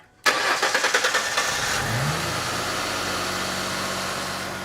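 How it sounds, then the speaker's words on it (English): A car engine cranks with a rapid rhythmic churn of about a dozen starter pulses, then catches and settles into a loud, steady idle, close up with no talking. "So when we crank up the car"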